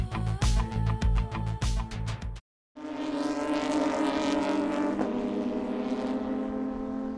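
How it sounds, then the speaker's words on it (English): Porsche GT3 Cup race cars with flat-six engines at Watkins Glen, first a rapid series of loud close-by revving bursts, a brief silence, then a sustained high-pitched engine scream holding steady as a car passes. "The unmistakable sound of flat six engines means that it's the Porsche GT3 Cup Challenge USA by Yokohama"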